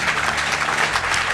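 An audience at the Pierres d'Or 2021 award ceremony applauds, a dense, loud, continuous wash of many hands clapping at once.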